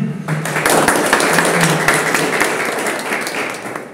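Applause rises from a church congregation gathered for a Sunday school teacher training session, a steady dense patter of many hands that holds for several seconds at full strength and eases slightly toward the end.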